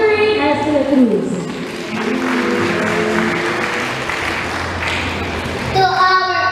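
Audience at a school graduation and moving-up ceremony breaks into sustained applause, a broad wash of clapping that swells and holds for several seconds, with a voice speaking over a loudspeaker at the start and end.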